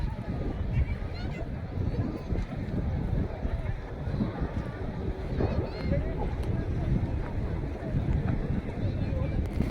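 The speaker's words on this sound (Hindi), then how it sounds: "और फिर हम बोट में बैठे।" Wind buffets the microphone during a boat crossing of the Ganges river, with a continuous low rumble of the boat and water beneath a steady outdoor roar and faint voices.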